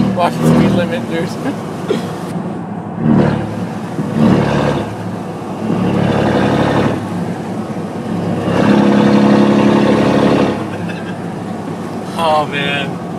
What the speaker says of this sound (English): this is how you drive around when you don't want the cops to realize you have a really loud exhaust